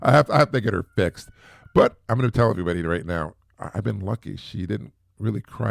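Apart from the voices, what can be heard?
No distinct noise like a dog, phone or traffic.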